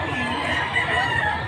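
Chickens cluck and a rooster crows amid a busy, noisy market backdrop, several birds close by with overlapping calls.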